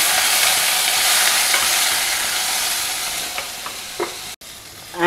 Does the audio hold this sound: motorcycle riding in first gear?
no